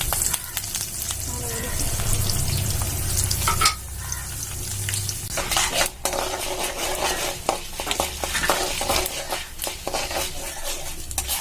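Urad dal, chana dal and curry leaves frying in hot oil in a pan, with a steady close sizzle and occasional stirring scrapes and utensil clinks throughout.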